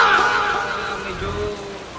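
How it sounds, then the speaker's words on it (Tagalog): Heavy rain pouring down, a continuous dense hiss filling the background at close range, with a voice talking and brief laughter over it. "grabe yung lakas ng ulan"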